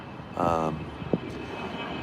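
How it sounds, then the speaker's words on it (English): Airplanes fly near LAX by Imperial Highway, their engines a steady, distant roar filling the background, with a brief voice and a short sharp knock heard over it. "You can hear the planes."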